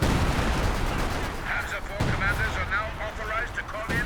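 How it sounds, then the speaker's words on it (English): Major artillery barrage landing in Company of Heroes 2, a dense continuous roar of heavy shell impacts and rumbling blasts, with sharper crashes near the two-second mark and at the end, over game ambience and faint voices. "Now calling in some artillery. Major artillery."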